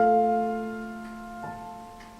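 A piano plays a bar of a theme: a sustained chord rings and fades, then a second note enters around midway, quiet and alone.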